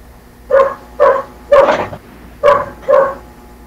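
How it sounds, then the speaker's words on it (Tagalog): A neighbor's dog barks five times in quick, evenly spaced yaps, loud and fairly close, the middle bark rougher and longer, without speech between them. "Ingay naman ang aso yan."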